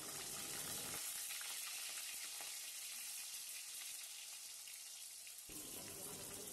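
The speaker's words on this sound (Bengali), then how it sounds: "এর মধ্যে দিয়ে দেব কলাগুলো কলাটা ভেজে নেব" Plantain slices hiss in hot oil for a Bengali sukto, a bright, steady sizzle close up that drops briefly quieter mid-way before surging back, with no talking.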